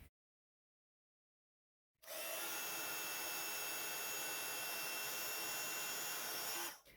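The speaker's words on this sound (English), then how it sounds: "I'm going to heat emboss that in gold." A heat gun warms gold embossing powder on a stamped wedding card, starting after two seconds of silence as a loud, steady blowing roar that holds evenly for about five seconds before cutting off.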